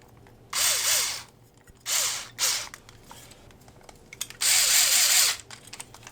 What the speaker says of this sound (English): Now, I always like to start it with my drill, but I'll always come back through and finish it by hand.